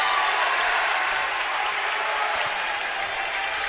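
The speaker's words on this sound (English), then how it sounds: "And the crowd going crazy again" A basketball crowd at a boys' game against Franklin cheers and applauds after a turnover, a loud, dense roar of clapping and shouting that holds steady and only slightly eases toward the end.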